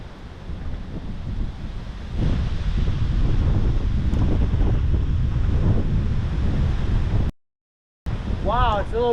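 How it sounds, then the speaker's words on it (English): Strong wind buffeting the microphone beside the Kenai River in Alaska while salmon fishing, a loud rushing roar that swells after two seconds, breaks off briefly, then returns with a voice over it. "Wow, it's a little windy today."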